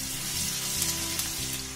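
Crushed garlic cloves fry in hot oil for an Uttarakhandi urad dal, giving a dense, even sizzle that holds steady and close with no voices.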